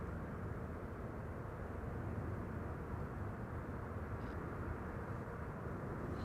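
A Delta Airbus A330 arriving at Amsterdam Schiphol gives off a steady, distant low jet roar, a continuous broadband rumble with no voices over it.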